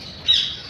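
A parrot at a zoo lets out one short, fairly loud squawk that rises briefly out of a quiet background.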